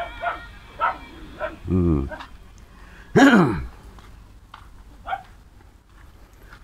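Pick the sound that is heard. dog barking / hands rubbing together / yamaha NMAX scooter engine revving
dog barking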